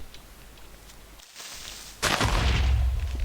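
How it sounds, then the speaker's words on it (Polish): A sudden loud boom bursts out after a brief hiss and short silence, then rumbles on as a heavy, close explosion: a Minecraft creeper exploding. "creeper wybuchł za mną"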